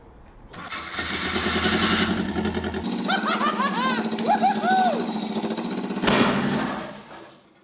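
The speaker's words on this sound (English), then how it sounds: "I've never heard it backfire that loud in my life." A newly installed car engine cranks and catches, running loud and rough for several seconds with uneven popping bursts and a sharp backfire-like surge near the end before cutting off; voices are heard faintly.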